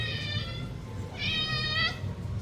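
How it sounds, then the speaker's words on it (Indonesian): A cat meows twice, close and clear, with a brief pause between the calls over low background room noise. "dia kenal sama kucing ini Pak."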